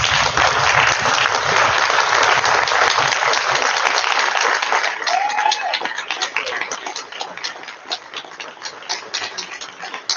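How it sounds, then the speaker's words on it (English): An audience at a Notre Dame awards ceremony in Elmira applauds loudly, with dense, sustained clapping that gradually thins out and softens toward the end. "please help me and stand up and give a round of applause for Max Young, our athletic manager."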